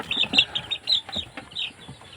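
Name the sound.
week-old chicks chirping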